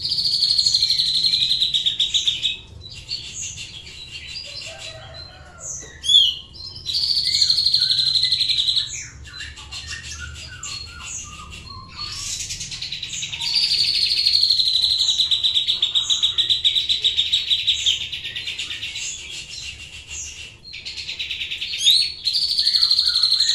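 Pet trotol songbird chirping close and loud in bursts of rapid, high, trilling calls, each lasting a few seconds with short pauses between, continuing throughout without any talking.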